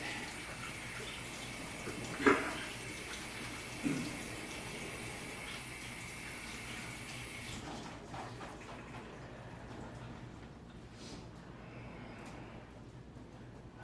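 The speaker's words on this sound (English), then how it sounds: "get my hands washed up" Kitchen tap running steadily while hands are washed, a constant hiss of flowing water with a couple of small splashes or knocks early on, then the flow changing and quieting after the middle.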